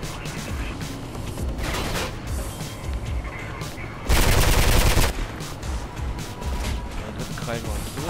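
Gunfire in the video game Mirror's Edge, dense and loud within a busy game mix, with a heavier burst of shots near the middle, while someone talks throughout.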